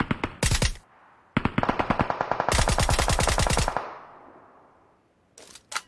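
Bursts of rapid automatic gunfire from a VSS rifle in a shooting video game: a short volley, a pause, then a longer sustained string of shots, with a final brief burst after a quiet gap, loud and close.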